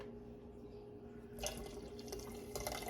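Leftover milk poured into a pot, a faint trickling pour that begins partway through and continues in small splashing bursts against a quiet kitchen hum.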